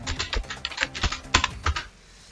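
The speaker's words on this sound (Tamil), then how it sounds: "அதே போல் பாரதின்னு இங்கே டைப் பண்ணுறேன்." Rapid bursts of typing on a computer keyboard while entering a name into an Excel spreadsheet, irregular clusters of crisp close keystrokes with a few louder key hits, trailing off into quiet at the end.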